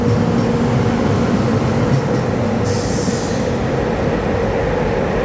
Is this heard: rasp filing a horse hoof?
no